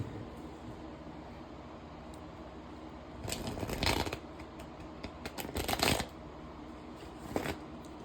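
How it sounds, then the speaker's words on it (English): A deck of cards is shuffled in a quiet room, with two short bursts of riffling and flicking separated by a pause, then a final faint flick near the end. "Okay, Spirit, I gotta shuffle these. I didn't shuffle these."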